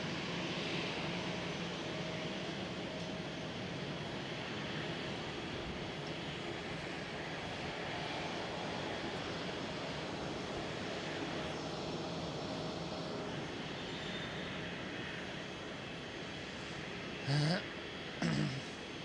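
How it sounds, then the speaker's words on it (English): An Air France Airbus A320 jet roars at Schiphol airport, a broad steady engine wash at moderate distance that holds for the whole stretch, with two brief clicks near the end. "Air France A320."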